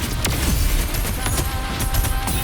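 Mortar blasts and scattered gunfire in the Wuthering Waves video game, a dense rapid fusillade of sharp cracks and thuds over constant loud battle noise, with no clear single explosion.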